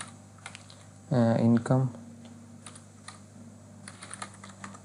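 Typing on a computer keyboard while entering text into a Google Sheets accounting spreadsheet, a quick cluster of soft key clicks heard faintly under someone speaking Hindi.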